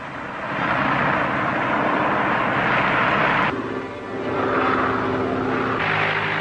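A propeller airplane drones loudly and steadily as it comes in to land on a farm in an old film soundtrack, its engine dipping briefly midway before the hum swells back.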